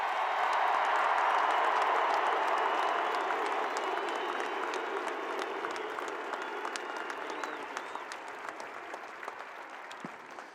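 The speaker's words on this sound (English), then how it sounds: "applause" A large stadium crowd applauds and cheers for Georgia's back-to-back national championship team at Sanford Stadium, a broad, sustained roar of clapping that slowly tapers in loudness.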